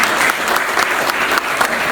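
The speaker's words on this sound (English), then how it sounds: "Let's give this lovely lady a big round of applause." Sustained, loud applause from an audience at a book launch, a dense steady patter of many hands clapping that carries on without a break for two seconds.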